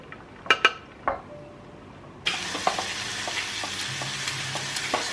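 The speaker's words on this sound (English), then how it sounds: "Let's get cracking on the bacon, darling." Bacon frying in a pan in a home kitchen, a steady broadband sizzle that starts abruptly partway through, following a few sharp clinks of dishes and cutlery, with faint utensil taps continuing over the hiss.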